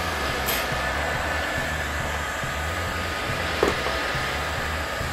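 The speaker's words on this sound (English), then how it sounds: "With the hot air gun." A hot air gun blowing steadily on electric scooter handlebar parts, a continuous close whooshing hum with a faint click partway through.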